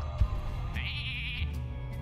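Sheep bleat from the Hearthstone card game, Blackrock Mountain adventure: a single short, clear bleat in the middle of a quiet moment, alone with no talk over it.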